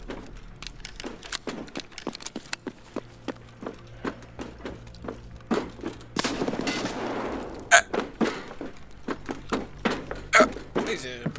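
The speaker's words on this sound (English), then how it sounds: "He shot at you." Rifle shots crack in Escape From Tarkov on the Interchange map, a long run of sharp, evenly spaced single shots followed by denser bursts, close and loud, with people speaking in between.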